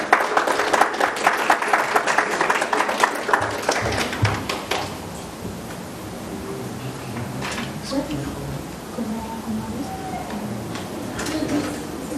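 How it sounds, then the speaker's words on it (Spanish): Applause from an audience at an academic conference welcoming a speaker, a few seconds of loud clapping that fades into room murmur and movement. "Por favor, si le damos un fuerte aplauso para darle la bienvenida"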